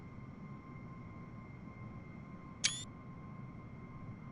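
Single camera shutter click taking a screenshot inside a BAe 146-300 in Microsoft Flight Simulator, sharp and brief over a steady airliner cabin hum.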